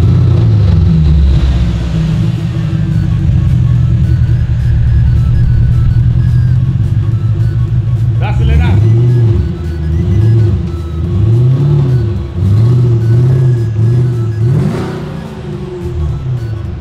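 A Porsche Panamera engine starts and revs repeatedly, loud and close, a steady deep idle broken by several rising and falling throttle blips with no talking.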